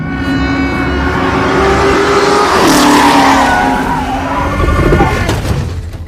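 A Ford race car driven at high speed roars loud and close, its engine pitch climbing and shifting through gears while tires squeal and skid, a dense continuous blast with no talk.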